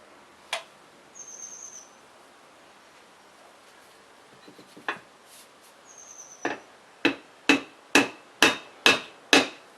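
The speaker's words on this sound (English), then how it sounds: "Very light taps with the hammer just to get them started." Light hammer taps seating bearing inserts into an RLCA control arm rod end, a series of about six sharp, evenly spaced metallic knocks growing louder near the end, with a few scattered earlier taps and faint chirps between.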